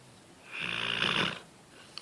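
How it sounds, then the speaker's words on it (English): One long raspy snore from a dog lying in bed between two people, close and fairly loud, with quiet before and after. "And snoring like mad."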